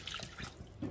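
Water poured into a pot of soaked basmati rice for pulao, a short splashing pour with a brief louder gush near the end, close and alone.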